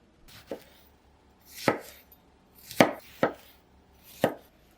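Tomatoes being cut on a cutting board, heard as five sharp, separate knife chops at uneven intervals, close and crisp with quiet gaps between strokes.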